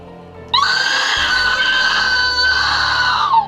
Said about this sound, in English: Oh my gosh, blood-curdling scream.